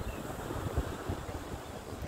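Sea waves and steady wind wash over a beach, a dense, continuous roar of surf and breeze with no voices.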